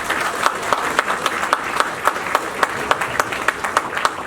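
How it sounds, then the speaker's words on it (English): Audience applause at a Lunar New Year celebration in Chicago, honoring a community organization that serves refugee families; steady clapping with crisp, regular individual claps standing out throughout. "let's give them a round of applause"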